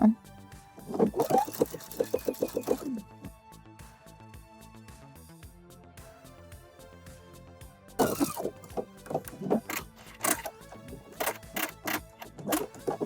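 A sewing machine stitches a pin tuck, with back stitches. Two bursts of rapid, rhythmic mechanical stitching run close and fairly loud, separated by a quiet pause of several seconds.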